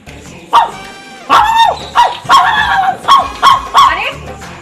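A voice imitates a dog, letting out about seven loud, close barks in a rough rhythm, each a short tonal yelp separated by brief gaps.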